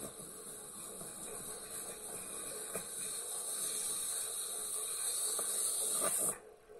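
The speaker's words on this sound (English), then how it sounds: "you can see the anti-vac valve is starting to spit." Wega espresso machine's anti-vacuum valve spitting steam as the boiler reaches pressure, a faint continuous high hiss that slowly grows louder, with a few small clicks, then cuts off abruptly near the end.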